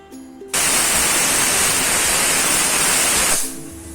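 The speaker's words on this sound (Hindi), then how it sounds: "इसकी हम 6 सीटी लगाएंगे।" A pressure cooker of chickpeas with salt releases a loud, sudden whistling hiss of steam lasting about three seconds before fading, with faint tonal sounds just before and after.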